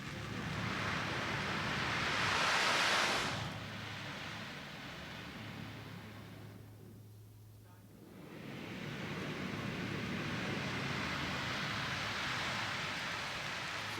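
A handheld ocean drum imitates ocean waves with a long hissing wash of rolling beads that swells, fades to a near pause, then surges back into a steady, loud, surf-like rush.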